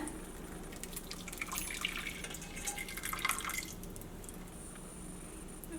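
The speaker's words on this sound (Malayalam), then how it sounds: "അപ്പോൾ ഒരു അരിപ്പയിലേക്ക് ഒഴിക്കുകയാണ്." Soaked liquid poured through a wide-holed sieve while making a coffee cream dessert, heard as a faint, continuous patter of dripping and trickling water with no talking.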